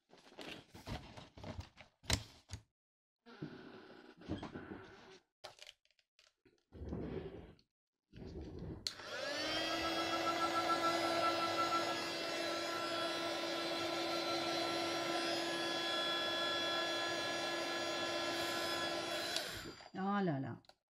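A heat tool blows steadily and loudly for about ten seconds, drying an art journal page, after some brief scattered sounds and short bursts of talk at the start.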